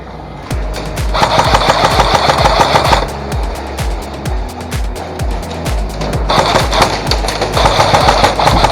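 Airsoft gun firing on a field game: rapid, close bursts of sharp snapping shots in two long volleys separated by a brief lull.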